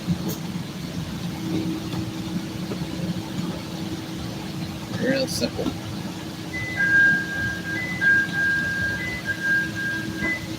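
A Chicago CTA Red Line train rumbles along with a steady low hum and motor drone, interrupted by a brief clunk and a repeating tonal chime near the end, while someone speaks briefly.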